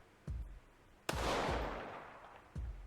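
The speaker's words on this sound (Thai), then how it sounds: "เสียงยิงปืนผมอยู่ในบาร์เรลเนาะ" Three sharp pistol shots from a video game under development, spaced about a second apart, the middle one loud with a long noisy tail and the outer two shorter, heard alone.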